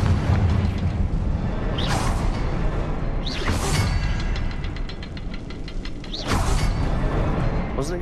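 Explosive Confringo spell blasts fire off in the video game Hogwarts Legacy, three sharp whooshing bursts with rumbling booms over a continuous loud game soundscape.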